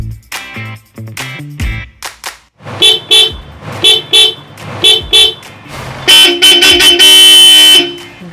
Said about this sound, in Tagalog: Bali, dalawang busina yung ikakabit. Bosch na ang brand yan.